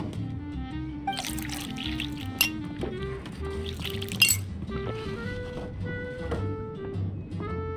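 A glass of juice being poured in a video game, with liquid trickling and glass clinking in a few bright chinks over steady background music.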